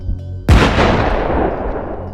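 A bomb dropped from a drone explodes in a single sudden loud blast, followed by a long rumbling decay.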